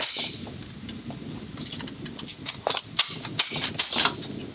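An MG 42 machine gun fires outdoors, a handful of sharp, cracking reports in the latter half over a steady background hiss, the shots coming in an uneven cluster rather than one long burst.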